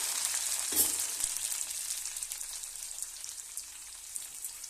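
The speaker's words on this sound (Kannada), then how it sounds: "ಇದು ಎಣ್ಣೆಗೆ ಫ್ರೈ ಆಗಬೇಕು ರೀ ಬದನೆಕಾಯಿ" Eggplant pieces sputter in hot oil with a continuous, close crackling sizzle and a brief stir or clink near the start, with no talk over it.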